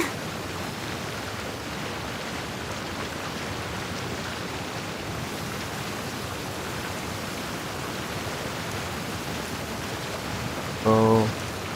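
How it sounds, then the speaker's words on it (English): Steady rain pours down in the Genshin Impact game world, a dense even hiss throughout, broken near the end by a short tonal game chime. "Won't stay out in the rain for too long."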